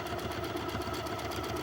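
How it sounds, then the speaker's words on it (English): Sewing machine stitching quilt pieces together for a mystery quilt, a steady fast mechanical whir with rapid needle chatter running continuously and close up. "sewing machine and sewing them all together"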